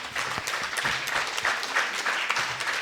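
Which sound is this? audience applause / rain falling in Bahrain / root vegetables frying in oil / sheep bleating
audience applause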